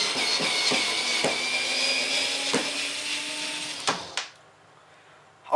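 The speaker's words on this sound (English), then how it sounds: "So now I'm gonna drill it out." A powerful electric screwdriver whirs steadily at close range as it drills out a screw from wood, with a few sharp clicks and knocks, then cuts off and leaves near silence.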